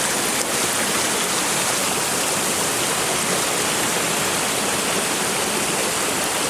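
A waterfall in Neffs Canyon rushes with a dense, steady roar, loud and close, continuous throughout without any voices.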